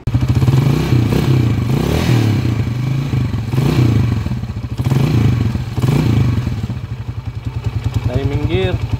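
A TMX155 motorcycle engine idles up close with an uneven, pulsing beat and a rattling, clattery mechanical noise from a worn timing gear. Someone talks over it near the end.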